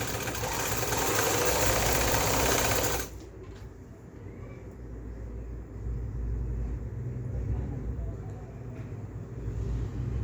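A sewing machine stitching lace onto a plain salwar sleeve whirs loudly and close for about three seconds, then stops abruptly, leaving a low steady hum.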